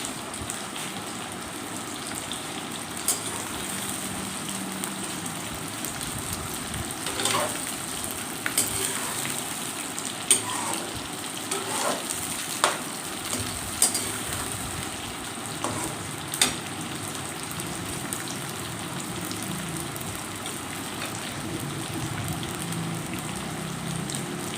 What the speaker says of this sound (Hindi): भिंडी को बहुत अच्छी तरह से फ्राई करना है